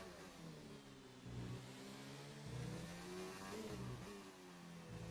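Engine of a McLaren Formula 1 car on a flying lap in the F1 2019 video game, a continuous high-revving whine that rises and dips through gear changes, with no talking.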